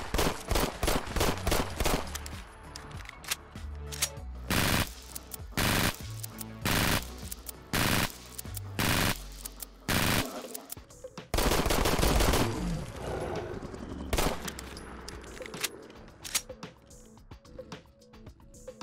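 Walther PPK pistol fired repeatedly in the video game Fallout 4, sharp, loud shots in quick bursts across many magazines, separated by short reload pauses and mechanical clicks.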